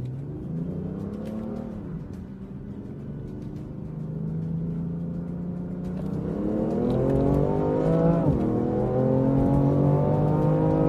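A BMW F80 M3 Competition with DCT, a Camaro LT1 with a 10-speed automatic and a Challenger 392 with an 8-speed automatic accelerate through the gears, engine pitch climbing loudly and dropping at each shift, with no talking.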